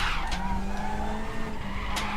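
In a touring car racing game, a race car brakes hard and its tires skid in a sustained squeal over a steady engine drone, loud and close, with no talk.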